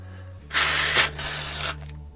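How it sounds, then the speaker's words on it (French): CO2 cartridge being pierced and pressurised in a KJWorks KP13-F airsoft pistol, giving one loud broadband gas hiss of about a second that swells, dips briefly and fades, heard alone over a low steady background hum. "On insère une cartouche de CO2. On la met légèrement en pression."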